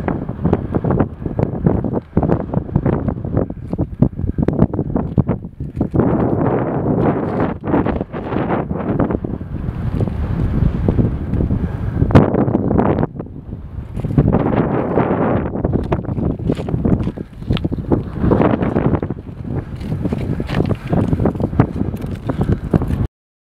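Strong, gusty wind buffets the microphone on a cold mountain summit, Bison Peak, in loud, rumbling surges that rise and fall throughout, with no voices.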